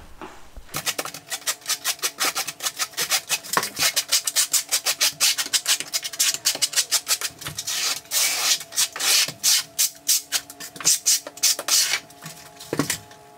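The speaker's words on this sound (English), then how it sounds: "So you'll notice that I am backbuttering every tile." A trowel scrapes thinset across the back of a ceramic tile during backbuttering, a rapid series of close, gritty rasping strokes in uneven rhythm with brief pauses between passes.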